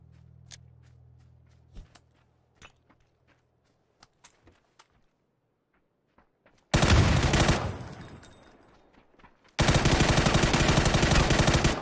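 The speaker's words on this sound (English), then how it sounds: "neko me puca" PUBG solo match: after quiet footsteps and small clicks, two long loud bursts of automatic gunfire erupt close by, the second cutting in abruptly after a brief lull.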